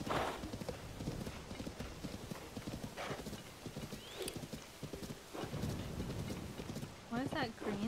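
Horse hooves clip-clopping at a steady trot in Zelda: Tears of the Kingdom, with a neigh near the end, under game music and a person talking.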